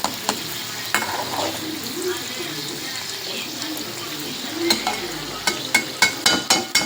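Kadubu dumplings frying in hot oil with a steady sizzle underneath, while oil is spooned over them, with sharp clacks of a ladle against the pan that grow more frequent toward the end.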